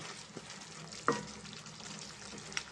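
Chicken fries in a pan with chili powder and coriander powder, a steady close sizzle with a few sharper clinks of stirring, and no one talking.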